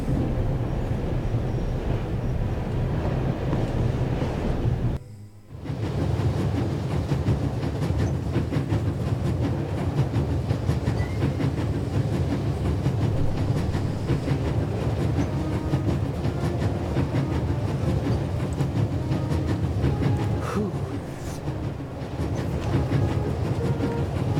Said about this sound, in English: Like traveling on a train.